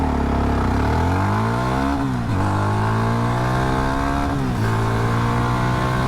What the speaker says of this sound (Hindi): इसकी जो एक्सेलरेशन टेस्ट है वो भी कर लेते हैं